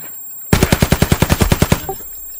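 A rapid automatic burst fired through a wall in Escape From Tarkov, about a dozen sharp, evenly spaced shots over roughly 1.3 seconds, loud and close, then a brief decaying echo.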